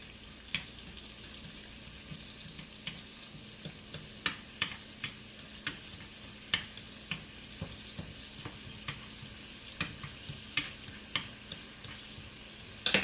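Bacon fries in a pan on a stove at medium heat, a constant soft sizzle broken by frequent sharp popping spatters at irregular intervals, close by with no voices.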